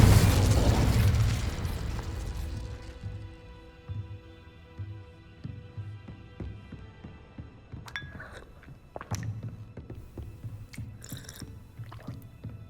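Incendio and Confringo spell blasts in Hogwarts Legacy go off as a loud booming burst, followed by a low rumbling tail and a scatter of sharp pops and crackles near the end.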